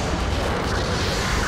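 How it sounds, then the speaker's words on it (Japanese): A support artillery barrage in Gundam Battle Operation 2: a dense, continuous rumble of overlapping booms and blasts, loud and close throughout the short burst. "後方部隊から支援砲撃が来ます。"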